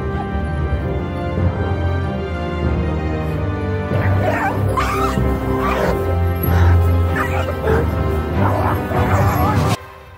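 Shepherd's guard dogs bark repeatedly, close and loud, reacting to a nearby animal passing in rough grazing country, with yips and whimpers mixed in over a steady background of low rumble.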